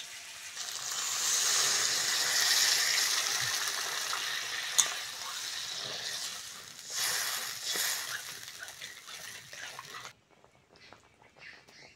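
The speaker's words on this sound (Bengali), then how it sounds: "এইবার দেবো জল" Water goes into a spiced fish curry base with sizzling masala in a pan, producing a hissing splash and bubbling that rises, shifts and fades before cutting off into quiet.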